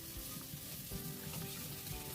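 Brinjal pieces fry in oil for a dahi baingan dish, giving a soft, continuous close-up sizzle with gentle bubbling and no voices.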